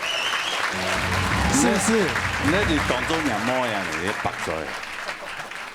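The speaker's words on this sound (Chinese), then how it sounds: "赞成他笑起来很可爱的拍手" A studio audience at a Hakka singing show claps in a continuous, moderately loud patter while a host talks and laughs over it.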